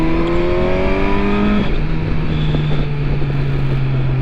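A Kawasaki Versys 1000 SE LT+ motorcycle engine on a road ride, revving up through a gear then dropping pitch at a shift and pulling on steadily, loud and near with wind rush around it.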